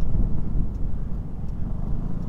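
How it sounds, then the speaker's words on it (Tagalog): A Vespa scooter ride heard as steady low engine drone mixed with heavy wind buffeting on the microphone, loud and continuous throughout. "I'd prefer to take the scooter."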